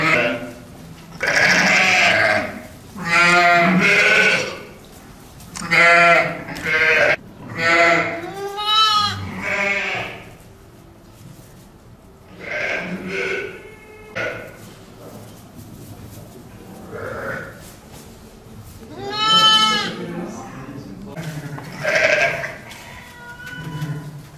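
Lambs bleat loudly and repeatedly, a series of close, wavering cries in irregular bursts with short pauses between them.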